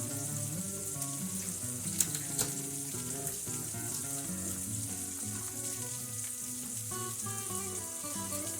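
Steak sizzles steadily in a hot pan with crushed unpeeled garlic, a close, continuous frying hiss with a couple of faint clinks.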